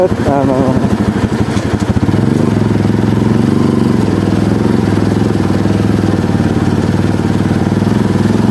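A motorcycle engine on a rough, rocky road chugs and rattles, revving unevenly at first, then settling into a steady, loud drone.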